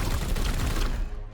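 A burst of rapid gunfire in Warhammer 40K: Chaos Gate – Daemonhunters, a loud, dense volley of shots lasting about a second before cutting off abruptly.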